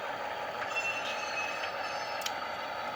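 An HO scale model train moves slowly through an East Oakland section of a layout on a restricting signal, giving a continuous steady rumble with faint squeals of wheels and no talking.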